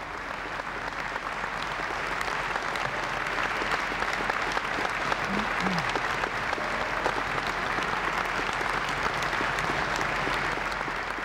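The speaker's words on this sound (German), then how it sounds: "Und Beifall für den Blue Tiger" Steady, dense applause from a large audience greeting the Blue Tiger diesel-electric locomotive at its presentation, continuous and even in loudness throughout with no voices standing out.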